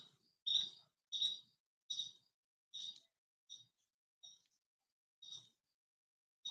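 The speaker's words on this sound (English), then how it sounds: "Hear the bird chirping?" Repeated bird chirps, about eight short bright calls spaced evenly, clear and fairly close against a quiet background.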